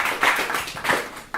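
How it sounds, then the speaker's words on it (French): Audience clapping at a French hypnosis talk, with a few scattered bursts of hand claps in short, uneven waves rather than sustained applause, close and moderately loud. "Je vous demande de l'applaudir."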